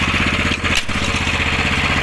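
A ZUBR hybrid walk-behind tractor with a 15 hp petrol engine runs in first low gear, its engine chugging in a steady, fast, loud rhythm up close, with a brief dip midway.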